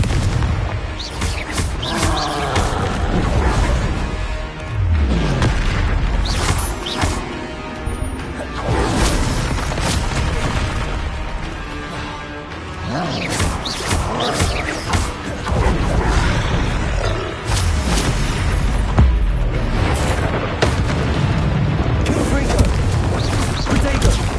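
Confringo blasting-curse explosions in Hogwarts Legacy erupt amid spell combat, a series of loud booms and crashes with rumbling impacts, mixed with game effects and shouting voices throughout.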